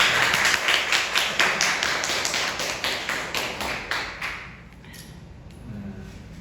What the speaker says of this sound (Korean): 우리 한번 박수로서 감사드리겠습니다.